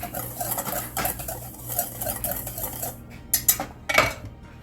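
Baking powder being stirred into hoe cake batter in a bowl, a steady run of light scraping and clinking strokes, then a few sharper taps of the utensil against the bowl's rim near the end; no talking.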